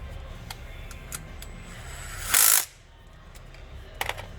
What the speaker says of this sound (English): I'm going to go ahead and torque it, just to make sure that it's solid on there and it's good and seated.